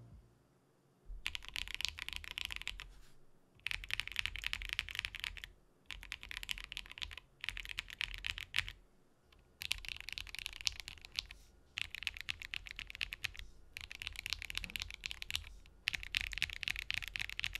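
A Qwertykeys QK65 mechanical keyboard with Meteor White switches is typed on in several bursts of rapid, close clacking keystrokes separated by brief pauses. No voices are heard.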